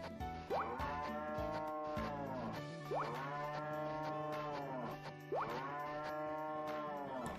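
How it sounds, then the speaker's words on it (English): A cow in the Story of Seasons farming video game moos three times in a row, each a long, rising, tonal low, clear and up close over a steady background, with no speech. "Come here, cow."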